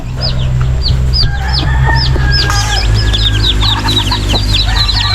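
Chickens cluck close by in a lively, overlapping chorus of short, repeated calls over a steady low background hum.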